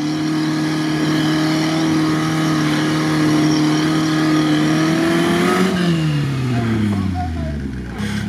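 Niva off-road vehicle engine revving steadily, a loud close droning note that climbs slightly and then drops as the revs fall away.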